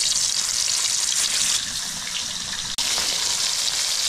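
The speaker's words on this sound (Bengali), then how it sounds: "আমার তেল গরম হয়ে গেছে, এবার মাছ দিয়ে দেবো।" Small puti fish dropped into hot oil in a kadai in a village kitchen, a loud continuous hissing sizzle that stays strong throughout, with one brief dip in the middle.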